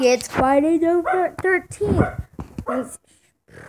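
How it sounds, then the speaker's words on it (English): A five-year-old pet dog gives short yips and barks mixed in with close indoor talking, the barking brief and partly overlapped by the speaking voice. "Sorry guys, that's my dog."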